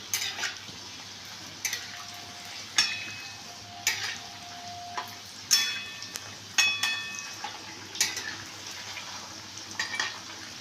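Semolina (suji) pakoras fry in hot oil with a soft, steady sizzle, broken by repeated clinks and stirring knocks every second or two, close and fairly quiet.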